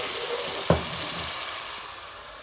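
Biryani masala cooking in a pan, a steady loud sizzle and fry throughout with one brief knock of a utensil early on, no voices.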